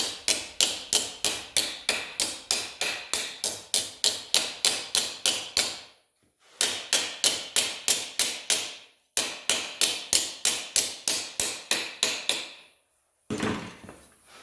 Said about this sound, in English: I'm going to hammer it across here and rotate it through